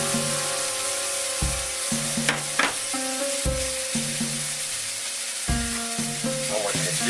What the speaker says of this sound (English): It's just like sautéing onions.